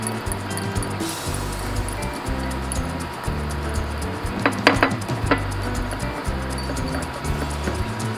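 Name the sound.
mixing tofu dish ingredients with salt and pepper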